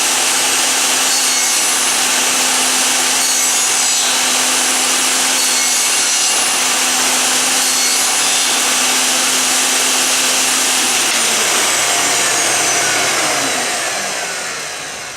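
A power saw cuts through wood while a shop vacuum runs, a loud sustained roaring whine with a steady hum that holds for about twelve seconds, then begins winding down.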